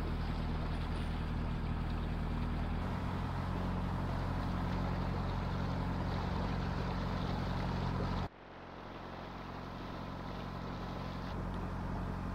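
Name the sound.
narrowboat cruising on a canal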